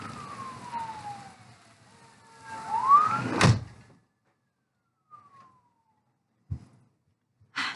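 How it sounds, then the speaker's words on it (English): Emergency sirens wail outside during rain and wind, their rising and falling tones sweeping over a steady hiss, followed by a few sharp thuds. "Starts raining outside and the sirens start going"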